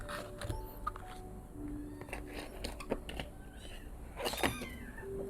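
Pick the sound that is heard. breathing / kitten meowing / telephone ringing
kitten meowing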